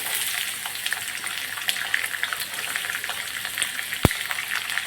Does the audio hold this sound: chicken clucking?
no